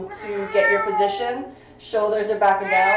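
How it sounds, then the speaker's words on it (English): A pet cat meows repeatedly, close and loud, wanting to be let out, with drawn-out cries in two bursts under a person giving exercise instructions. "That's my cat, he wants out."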